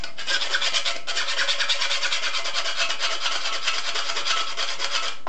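A metal file rasps back and forth over a metal antenna part to remove burrs, in even, rapid strokes that run close and steady, with a brief pause near the start.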